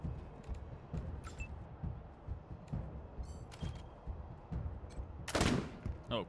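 Gunshots in Wasteland 3 ring out as scattered sharp cracks across the clip, each a brief bright burst over quiet background, with one louder blast near the end alongside small metallic clicks.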